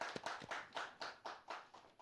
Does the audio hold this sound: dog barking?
no